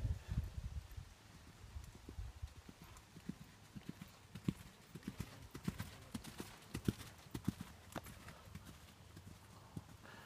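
Steady clip-clop of horse hooves at a trotting rhythm during a jumping clinic, fairly quiet and a bit distant, with faint rustling and occasional voices in the background.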